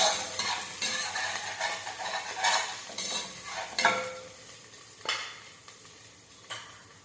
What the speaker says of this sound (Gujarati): છીણેલું આદું અને લસણની પેસ્ટ નાખું છું. એને સાંતળી લેશું.